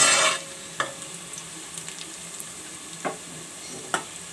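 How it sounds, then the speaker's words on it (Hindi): Whole garam masala (cumin, star anise, cloves, black pepper and black cardamom) hits hot oil with browned onions in a pan for beef pulao, a brief loud sizzle followed by faint frying and sparse stirring clicks. "गरम मसाला डाल के हम अच्छी तरीके से भूनेंगे"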